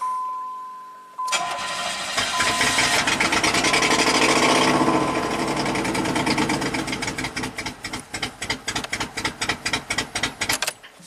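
A 1990 Buick Regal V6 with several cylinders disabled runs loud and close. The steady drone turns into a lumpy, pulsing idle with uneven misfiring beats toward the end, and no one speaks.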